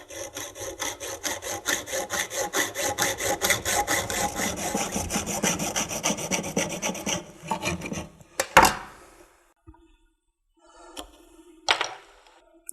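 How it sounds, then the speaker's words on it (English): A hand saw cuts through RF coaxial cable held in a guide while RBS 6000 RF connectors are assembled outdoors. Fast, even back-and-forth strokes rasp loudly for about eight seconds, then stop, followed by a few scattered clunks. "So now we just cut the cable using the guide to guide the saw."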